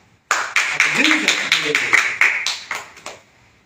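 A worship congregation claps in a quick, even rhythm of sharp, close hand claps, starting abruptly and fading at the end, with a voice singing or speaking over them.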